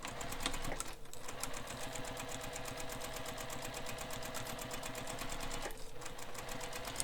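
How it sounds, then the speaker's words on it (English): Sewing machine stitching the sides of a fabric bag, a fast steady mechanical whirr with rapid needle clatter, pausing briefly near the start and again toward the end, close and loud. "So we're stitching both sides down."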